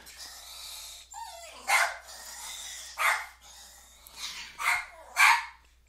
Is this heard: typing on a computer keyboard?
no